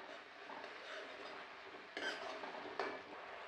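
Ketchup being stirred into chilli potato in a pan, with steady scraping of a spoon against the pan and two sharper clinks of utensil on metal near the end.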